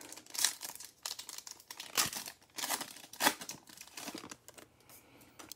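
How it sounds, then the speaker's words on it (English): Football trading card packs are torn and crinkled open nearby, a run of sharp foil rips and crackles in uneven bursts. "Let's pull some cards."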